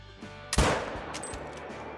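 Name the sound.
rifle shot from a 6.5 in video game Call of the Wild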